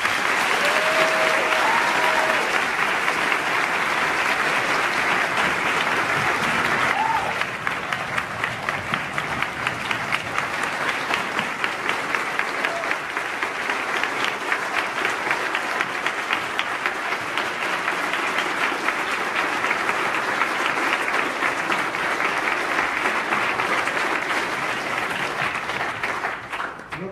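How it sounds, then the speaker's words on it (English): Sustained audience applause fills a lecture hall after a talk by Ben Shapiro, loud and dense throughout with steady clapping, easing slightly partway through but continuing without pause. "Another round of applause for Mr. Shapiro."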